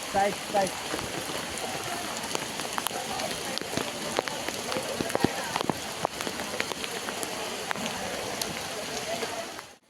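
Steady rain falls on a walking path at Matheran hill station, a dense, close patter with scattered sharper drops throughout and faint voices beneath.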